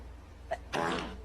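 A single quick sneeze, fairly close, with a faint short burst just before it and no talking.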